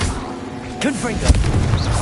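A Confringo blasting spell explosion in Hogwarts Legacy: a sharp booming burst with a fiery crackle over continuous game music and effects, and a voice in the mix.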